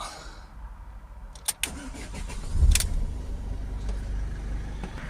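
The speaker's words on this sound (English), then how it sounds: "I'll get the van started up" A Peugeot Boxer 2.0 van engine cranks briefly and catches around the middle, then settles into a steady low idle. No voices.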